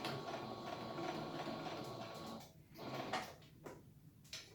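A sewing machine stitches a fabric face mask, a quiet mechanical whir and clatter that runs steadily, then stops and restarts in short bursts as the material is turned.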